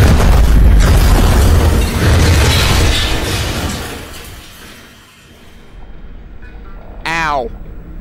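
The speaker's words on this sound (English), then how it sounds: "Oh, that's a grenade." A grenade explodes in the video game Half-Life Alyx with a loud, deep boom and shattering crash that slowly fades, followed by a short rising electronic whine.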